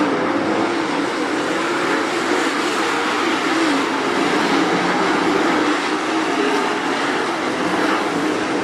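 Late model race cars roaring around the Attica Raceway Park dirt track, a dense, continuous wash of engine noise that holds loud and steady throughout, with no break or clear single pass.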